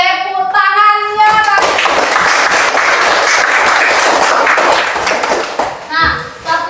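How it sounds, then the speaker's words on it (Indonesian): A classroom of children clapping their hands together in a loud, sustained burst of applause lasting several seconds, with a teacher's voice before and after. "Iya, tepuk tangannya."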